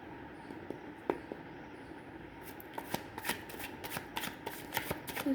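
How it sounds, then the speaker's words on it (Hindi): Tarot cards shuffled by hand at close range, a run of soft riffling flicks and taps that grows busier and louder toward the end, with no talking. "Okay, let's take cards for you now."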